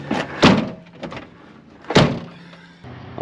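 An old, beat-up Jeep door is opened and shut several times, giving sharp, close metallic thunks and clunks spaced irregularly against a quiet background.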